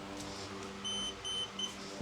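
An electrician's live-wire voltage detector, held against a live electrical line, lets out two short, high, close beeps followed by a brief third chirp over faint background hum.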